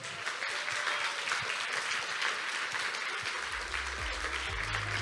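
Steady applause from a business forum audience in Kyiv after a speech fills the space, continuous dense clapping with a faint low rumble appearing near the end.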